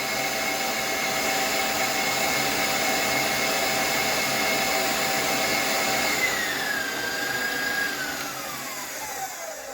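An electric mixer at its top speed beats almond tart batter with a loud, steady motor whine that holds for several seconds, then slides lower in pitch as it winds down near the end.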